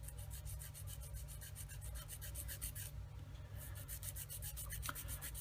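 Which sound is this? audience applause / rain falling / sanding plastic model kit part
sanding plastic model kit part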